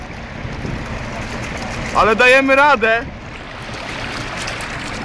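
A car driving through floodwater on a road with waves, giving a steady washing, rushing noise throughout, and someone briefly speaking over it partway through.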